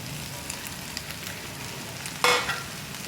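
Tomatoes drop into a hot pan of cooked-down masala for a tomato and dried prawn curry. A soft, steady sizzle turns into a sudden, louder hiss as they hit the oil, then settles back to a simmering crackle.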